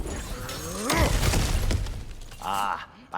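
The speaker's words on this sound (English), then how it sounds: "back to smashing through things for fun and profit" Objects smashed for loot in God of War Ragnarok break apart with a loud shattering crash, followed by scattering debris and a second rattling burst.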